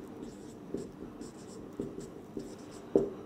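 A pen scratches out a differential equation solution by hand in steady short strokes with a few sharper taps, close and fairly quiet, while a teacher speaks over it.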